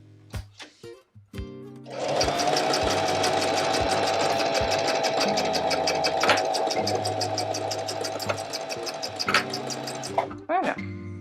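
A sewing machine runs steadily for about nine seconds while stitching the handles onto a fabric tote bag, a loud continuous whirr that starts after a few brief clicks and stops with a short mechanical rattle.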